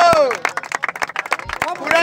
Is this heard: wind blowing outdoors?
no